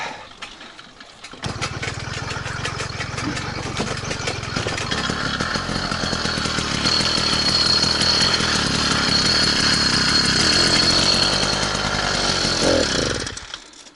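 A small motor on an all-terrain motorized bicycle catches after a brief mechanical rattle and runs steadily with a buzzy, chainsaw-like drone, revving up slightly, close and loud, then cutting off abruptly near the end.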